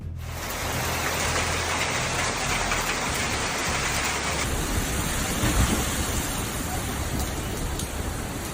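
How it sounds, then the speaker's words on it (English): A violent hailstorm with powerful winds in Southeast Kentucky makes a dense, loud, continuous roar of pounding ice and rain on surfaces, steady throughout with no pauses. "Southeast Kentucky became a stage for hail and powerful winds"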